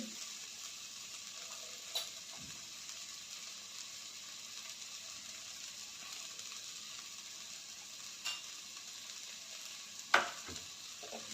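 Masala paste with turmeric stirred in a pan for an eggplant dish, a faint steady sizzle with three sparse spoon scrapes against the pan, quiet and close with no voices.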